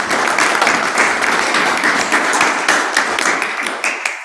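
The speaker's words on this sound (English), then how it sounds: "So please join me in a last round of applause for Dr." An academic seminar audience gives a final round of applause, steady dense clapping from many hands sustained throughout at close range.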